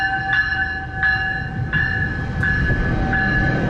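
A Canada GO Train run by Metrolinx pulls into the station, close and loud, with rumbling rail noise under a tonal signal that pulses repeatedly at an even pace.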